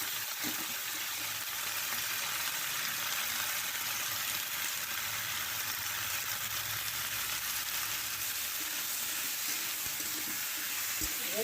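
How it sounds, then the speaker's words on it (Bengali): Malabar spinach (pui shak) sizzles and fries steadily in a hot pan, a dense continuous crackle with occasional stirring, close and alone without voices. "ভালো করে ভেজে নেব।"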